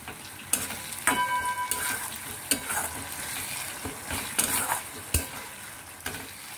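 A utensil stirs doi katla, a Bengali yogurt fish curry, in a pan as the oil separates. Sharp scraping knocks land irregularly over a soft, steady sizzle, close up with no voices.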